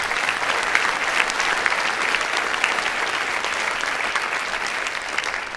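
An audience claps in a sustained, even burst of applause, many hands close together with no pause.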